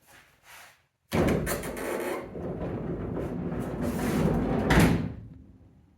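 A VW bus sliding door, with the bus jacked up, rolls along its track in one long scraping rumble, ending in a firmer thud near the end; it is close and fairly loud, with no talking.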